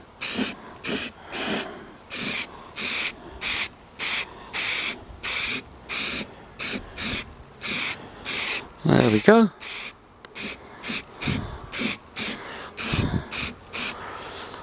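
Aerosol spray paint hisses onto a metal garden incinerator in a long series of short, loud, evenly spaced bursts up close, with a brief spoken remark partway through.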